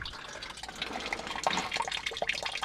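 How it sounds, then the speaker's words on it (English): Water trickles and splashes steadily into a sump pit, a continuous bubbling patter with small drips layered on top, fairly faint and close. "Still got some water coming in."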